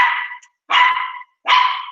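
A dog barks three times in a house after a knock at the door, each bark loud, close and evenly spaced with short silences between, no talking.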